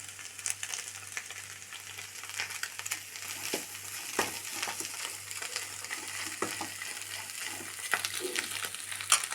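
Chicken masala and boiled tapioca frying and being stirred in a pan for an egg curry, a continuous close sizzle with scraping spoon strokes and no talking.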